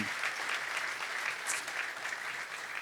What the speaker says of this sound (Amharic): ዜማ የእሷን እድሜ ያለ ቲኔጀሮችን ሁሉ ወክላ አጨብጭቡላት